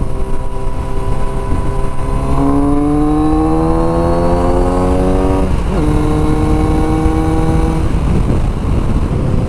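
A Kawasaki motorcycle engine heard from the rider's seat on an open-road ride, loud and steady with rising revs through gear changes and wind rush, no talk.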